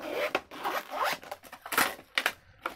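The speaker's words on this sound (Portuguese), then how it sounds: "E a gente remove puxando aqui o zíper." A zip tear strip being pulled open on a cardboard Barbie doll box, a series of quick ripping zips in short bursts, close and loud with no talk.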